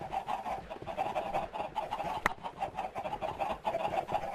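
Minecraft chickens cluck and chatter in a busy, continuous flock, with a steady murmur of calls and one sharp click partway through. No voices.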